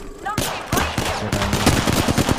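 Rapid gunfire from a shooter video game, a dense run of sharp loud bursts and repeated shots in close succession, with faint voice chat underneath.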